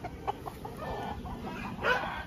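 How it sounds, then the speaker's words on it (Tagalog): Chickens cluck softly against a steady farmyard background, with a louder burst of clucking near the end. "Ang daming manok."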